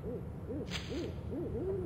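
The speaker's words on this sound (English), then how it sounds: "Shut up, owl." Repeated owl hoots from a night scene in the video game Kidnapped, several rising-and-falling calls spaced across the clip over a steady ambient hum, with a brief bright tone midway.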